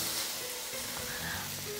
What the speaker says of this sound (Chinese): 让它用中火吧，慢慢的煎香，煎到这个洋葱变成有点透明的